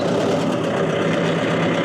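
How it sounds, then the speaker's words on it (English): A turbocharged Mahindra tractor engine idles close by, a steady throbbing rumble with a faint high whine over it, constant in level throughout, with no talking. "That's because this is a turbocharged tractor."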